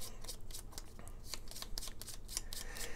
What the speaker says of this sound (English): And we will shuffle the rest.